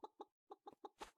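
A pet rooster named Hiccup in the farming game Pumpkin Days makes a run of short, clipped clucks in quick bursts, about five in a row with a brief pause after the first two, close and clear with no voices.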